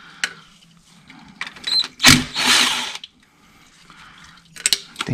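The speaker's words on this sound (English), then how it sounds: "with a number 8, that's what you need to start removing these bolts" A ratchet fitted with a number 8 socket clicks while loosening transmission pan bolts on a 2009 Grand Cherokee, giving short close mechanical ratcheting bursts separated by pauses.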